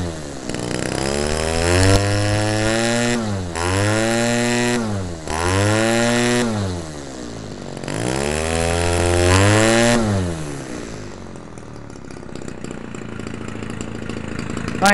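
Homelite 30cc Racer X chainsaw engine running, revved up and down in four loud rising-and-falling bursts close by, then settling toward a quieter idle as it winds down.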